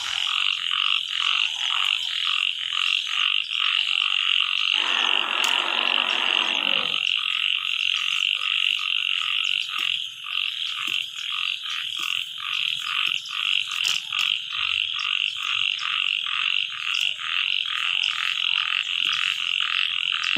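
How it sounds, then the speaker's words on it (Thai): Frogs croak in a steady, loud, rhythmic chorus outside a house in the evening while grass is being cut out front, the pulsing calls running unbroken throughout, with a short burst of rustling scrubbing noise near the start. "โอ้มีเสียงกบร้องด้วยนะคะ"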